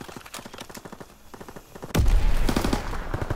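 M1919 machine gun firing in a video game, rapid rhythmic bursts of shots, lighter at first then joined by louder, heavier gunfire and booms around the two-second mark, dense and close.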